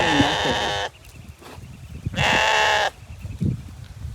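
Sheep bleat twice, loud and close, each a wavering nasal cry lasting under a second, separated by quieter outdoor background noise.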